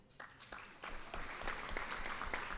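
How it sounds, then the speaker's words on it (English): Applause at the Chicago Bar Association's 145th annual meeting builds quickly from a few claps into a dense, sustained patter of a crowd clapping together, heard from a moderate distance. "You can give him a round of applause."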